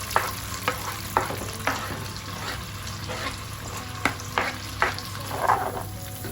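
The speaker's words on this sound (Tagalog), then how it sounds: "while we are melting the butter, let's add the garlic" Garlic added to about 200 grams of melting butter for a Cajun shrimp and lobster sauce: a soft, steady sizzle near the mic, punctuated by several short taps and scrapes from a utensil.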